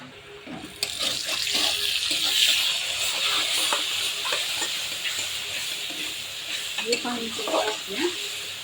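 Meat is spread into a hot pan of curry, giving a steady broad sizzle with stirring and scraping clatter that holds through the clip and gets louder near the end.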